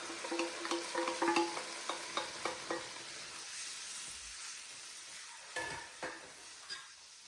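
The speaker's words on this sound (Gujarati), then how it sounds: "અને હવે આપણે વટાણા વઘારી દઈશું." Green peas being tempered in a pan for ragda, with a steady sizzle and a spoon scraping and stirring in bursts, the clinks louder early on and then sparser toward the end, close and moderately quiet with no talk.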